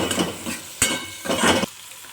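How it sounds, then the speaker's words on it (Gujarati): Carrots and capsicum stir-frying in a pan for Indian-style veg masala pasta, giving a close sizzle with a few distinct scraping stirs, about three bursts over two seconds and no voices. "હવે આ બધી જ વસ્તુને હું ગોલ્ડન બ્રાઉન સુધી હલાવી લઈશ."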